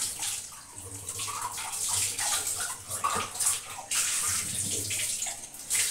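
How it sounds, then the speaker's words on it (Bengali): Tea cups are rinsed under a running tap, with water splashing steadily and shifting in pitch as the cups move through the stream, close up. "মনে ছিল না, সেই কাপগুলো আবার ধুয়ে দিলাম।"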